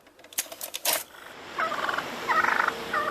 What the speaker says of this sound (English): wild turkeys are an everyday occurrence in this Montreal borough